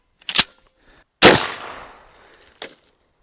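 A Mossberg 590 RM magazine-fed pump-action shotgun fires one loud, sharp blast outdoors with a rolling tail that fades over about a second, followed by a smaller crack and a short mechanical clack on either side.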